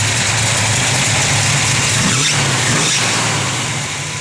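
A 1967 Chevrolet Chevelle SS with an aggressive camshaft idles close by, a steady, loud low rumble with a lopey, uneven pulse and a slight swell partway through; no one speaks.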